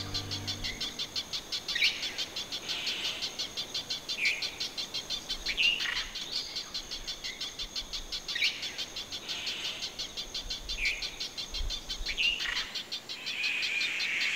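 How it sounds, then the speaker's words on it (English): Several birds sing and chirp in a forest on Príncipe Island, their repeated whistled phrases rising over a steady bed of insect buzzing. "The rhythm of the bird songs is now one of courtship"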